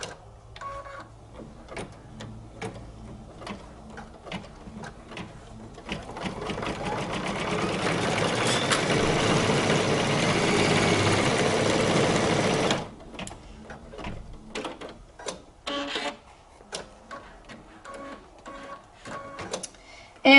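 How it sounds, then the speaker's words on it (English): Embroidery machine stitching down red leather on an appliqué placement line, a steady mechanical whirring and rapid needle clatter that builds loud for several seconds, surrounded by sparser ticking and clicking movements. "I'm going to go ahead and stitch down my red leather."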